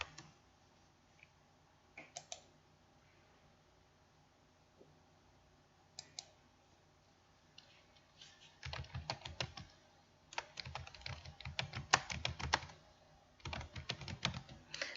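Computer keyboard keys typed in a quiet room, a few isolated taps early on, then brisk, fairly close bursts of clicking typing continuing to the end with no talk.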